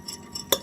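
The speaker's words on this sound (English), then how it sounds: "get your spoon, put it in, and then just mix it." A spoon stirs a liquid mixture in a small cup during a simple home science experiment that turns green, giving a few brief clinks and swishes, with one sharper tap near the end.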